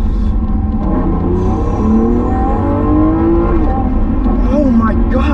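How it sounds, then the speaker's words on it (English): A supercar engine revs hard through aggressive upshifts, a loud close rumble with rising and falling engine tones, while someone talks over it. "the upshifts are ridiculously aggressive, but the downshifts are actually not that aggressive"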